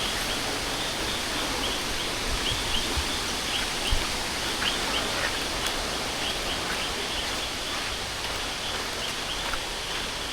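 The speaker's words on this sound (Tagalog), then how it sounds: "Malakas na yung buhos ng tubig eh" Water pours hard at Tumagiti Falls in Camarines Sur, a dense, steady roar of falling water that stays constant and fills the whole scene with no voices.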